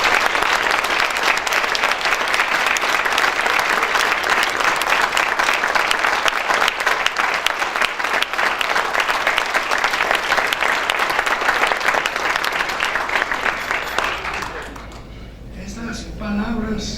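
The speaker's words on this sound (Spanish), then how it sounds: "Les pido un aplauso para don Lorenzo Cerdillo." Dense, sustained applause from a large audience at a formal presentation in Mexico, a loud and continuous wall of clapping that fades toward the end, with a few voices mixed in.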